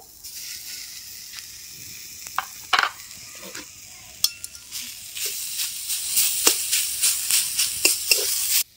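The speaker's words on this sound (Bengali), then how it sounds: "তার জন্য 1 বাটি নারকেল কড়াইয়ে দিয়ে দেব" Grated coconut meant for a pitha filling is stirred in a wok, starting quiet and then rising into a soft sizzle with repeated scraping strokes of the spatula, close and steady toward the end.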